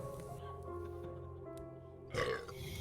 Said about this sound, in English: Did I just hear a burp?